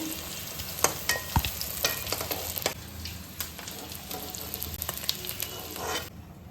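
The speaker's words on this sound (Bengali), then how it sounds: "এর মধ্যে দারচিনি, একটু জিরে, শাহজিরে, এলাচ একটু ফোড়ন দিয়ে দিলাম" Cinnamon, cumin, caraway and cardamom crackle and sizzle as they temper in hot oil for a mutton biryani, with close, steady frying hiss broken by sharp pops and the scrape of stirring.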